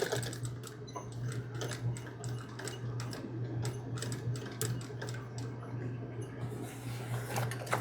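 A sewing machine stitches a patch onto a pants pocket with a quick, close run of ticking needle strokes over a steady motor hum, quiet and alone.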